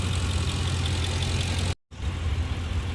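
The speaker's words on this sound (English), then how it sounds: "It says let it idle for 10 to 15 minutes, so we're going to let it idle for 15 minutes." A car engine idles after Amsoil engine flush has been added, giving a steady, close, low rumble that cuts out briefly for a moment before resuming unchanged.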